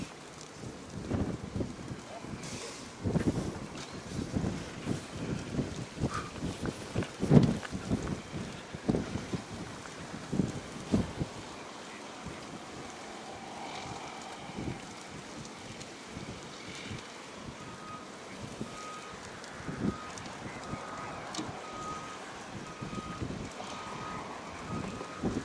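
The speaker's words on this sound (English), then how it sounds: "The wind is blowing." Gusty wind buffets the microphone outdoors at a vegetation fire off Highway 12 East, a rough, rumbling rush that rises and falls over the whole stretch, with occasional background noises.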